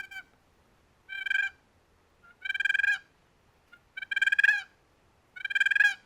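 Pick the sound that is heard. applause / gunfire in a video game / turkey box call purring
turkey box call purring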